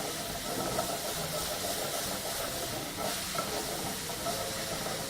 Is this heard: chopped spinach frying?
yes